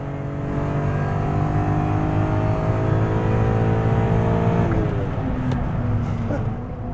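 A performance car accelerates hard along a winding scenic driving road, its engine note climbing steadily and loudly for several seconds before a gear change drops the pitch, with the engine continuing to pull afterward.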